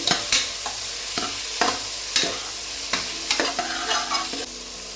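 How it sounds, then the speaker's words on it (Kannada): Ingredients for a ridge gourd sambar frying in oil, a close sizzle carrying repeated clanks and scrapes of a spoon stirring in the pan at an uneven pace. "ಹಾಗೆ ಸ್ವಲ್ಪ ಹೊತ್ತು ಆಯಿಲಲ್ಲಿ ಫ್ರೈ ಮಾಡಬೇಕು. ಈ ಥರ ಒಂದೆರಡು ನಿಮಿಷ ಈ ಥರ ಫ್ರೈ ಮಾಡ್ಕೊಳ್ಳಿ."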